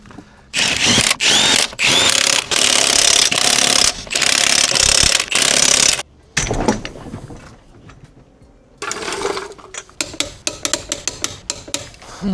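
Ratchet or power tool torquing a brake caliper slide bolt on a van, with long loud bursts of whirring followed by quicker clicking strokes, close up and alone.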